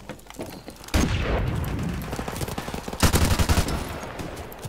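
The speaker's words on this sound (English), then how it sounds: "RPD, light machine gun." RPD light machine gun firing in Call of Duty 4 Modern Warfare Remastered, two loud sustained bursts of rapid automatic fire with heavy booming impacts, close and continuous.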